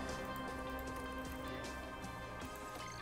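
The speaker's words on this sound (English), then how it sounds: "There's rain in quali, which is unfortunate." Steady rain pattering down during a qualifying session in the racing management game F1 Manager 2023 at the Mexico round, a constant dense hiss with bright droplet ticks, even and continuous throughout with no talk.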